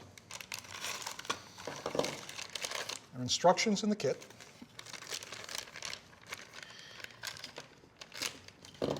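Crinkling plastic bag holding a railing splice kit being torn open, a few seconds of sharp rustling close by, with a person speaking around it.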